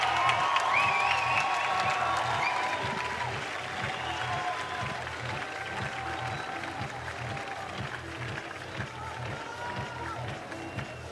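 Crowd at a men's lead climbing World Cup final in Chamonix cheering and clapping as a medalist appears, a broad roar with whoops fading to sustained applause, a loudspeaker voice talking over it.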